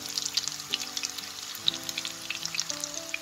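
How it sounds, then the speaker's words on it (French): Cauliflower fritters browning in a frying pan, giving a steady close sizzle with dense crackling pops and a low tonal hum running underneath, and no voices. "Je les laisse dorer sur les 2 côtés."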